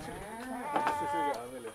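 Goats bleating in a farm pen, a few wavering calls rising over a low background murmur, fairly close and moderately loud.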